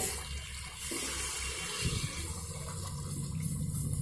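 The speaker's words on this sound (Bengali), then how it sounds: "দিয়ে দেব উষ্ণ গরম জল" Warm water pours steadily into a cooking pot of lightly spiced chicken curry, a continuous close splashing and gushing with no talk.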